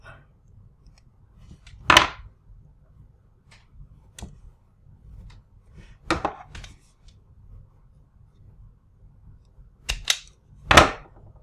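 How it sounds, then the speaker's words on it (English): Wire being snipped with cutters while fixing lights on an MN Model MN128 with a buck converter: a few sharp isolated clicks, spaced seconds apart, close and crisp against near silence. "So we'll just snip it."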